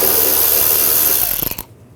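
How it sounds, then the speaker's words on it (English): A ratchet with an 8mm socket works the air box clamp on a 2008-2012 Jeep Liberty 3.7L V6, a dense rapid clicking that is loud and close and breaks into a few separate clicks before cutting off. "We're going to use an 8mm socket."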